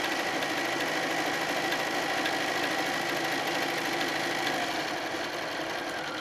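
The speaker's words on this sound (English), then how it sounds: "I just went and sewed from one to the next" A sewing machine runs steadily, chaining quilt pieces one after another, its rapid needle chatter and motor hum continuous and close with no pauses.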